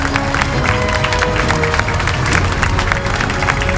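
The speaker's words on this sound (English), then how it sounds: "let's give an applause for the county board supervisors who fought against this." A rally crowd in Sheboygan applauds county board supervisors, dense sustained clapping from many hands close by, steady and loud throughout.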